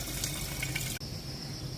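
Water pours into a pot of semiya and sago payasam in a short, soft gush that cuts off abruptly, leaving a faint steady tone; no speech.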